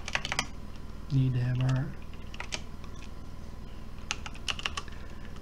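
Typing on a computer keyboard to enter a file name, a few quick bursts of key clicks near and clear, with a person talking briefly in between.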